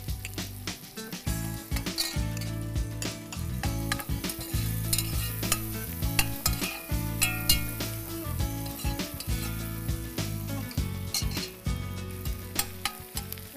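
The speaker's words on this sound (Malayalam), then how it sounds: "സവാള നന്നായി ഫ്രൈ ആവേണ്ട ആവശ്യമില്ല, നമുക്ക് ജസ്റ്റ് ഒന്ന് കുക്ക് ആയാൽ മതി" A small chopped onion and garlic fry in a pan with a continuous, dense sizzle, while frequent stirring utensil clatter and scrapes run throughout.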